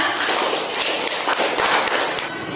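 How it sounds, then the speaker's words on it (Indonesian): Classroom applause for a student who answered a question, a brief burst of many small hands clapping close by with scattered taps and thumps, dense and steady for a couple of seconds. "Tepuk tangan untuk Nova."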